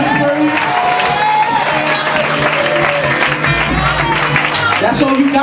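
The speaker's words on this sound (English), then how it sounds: "Can you clap and give God the best 30 seconds of praise that you have given him all night?" Church congregation clapping and calling out in praise during a lounge night service, a dense, continuous wash of applause and voices with music underneath and a leader's voice urging them on.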